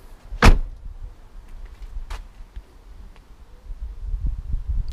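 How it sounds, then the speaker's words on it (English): BMW i3 REX doors shutting, rear then front: one solid near thud early on, then a fainter second knock about two seconds later, with quiet low rumble around them. "make sure they close the back door before they close the front door"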